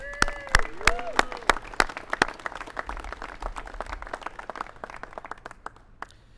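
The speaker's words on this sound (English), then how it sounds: "Let's get a big round of applause for organized labor." A small audience at a San Diego mayoral bill-signing gives scattered, sharp individual claps that start strong and taper into a looser patter, with a voice briefly audible at the start.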